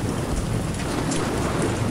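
Heavy rain pours down steadily and loudly, a dense continuous wash of noise with a low rumble beneath and no voices over it.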